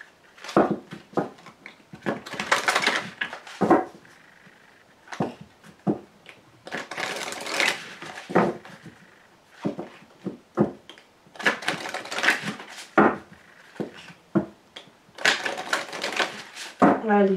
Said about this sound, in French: je vais vous tirer une carte de Guérir avec les anges de Dorine Virtue